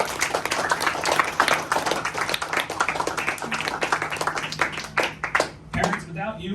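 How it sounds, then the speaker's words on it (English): A crowd applauds parents at a Boy Scout Troop 571 award ceremony held at a mosque, with dense, steady clapping through most of the clip and a brief voice near the end. "give a round of applause to all your parents here"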